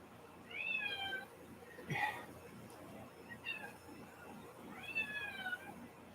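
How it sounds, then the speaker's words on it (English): Several cats meow in turn, a chorus of drawn-out calls from nearby animals heard over a quiet kitchen during a live home cooking session, with a brief bump of handling noise between them. "Got a choir of cats tonight."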